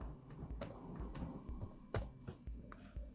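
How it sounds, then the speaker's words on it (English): Computer keyboard keys pressed during Windows 11 setup, a run of quiet, close, irregular clicks and taps with small gaps between strokes. "on your keyboard, click the Windows key and the R key"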